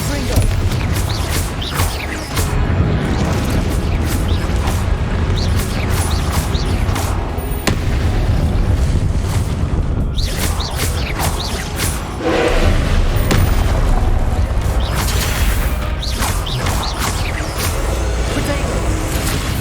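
Repeated Confringo explosive spell blasts and booming combat effects in Hogwarts Legacy during a trial fight, loud and dense, with sharp hits scattered over a constant rumble and a voice calling out spells throughout.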